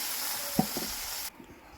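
Fish dropped one by one into hot oil sizzles with a steady, bright hiss and a soft thump, then the sound cuts off abruptly partway through.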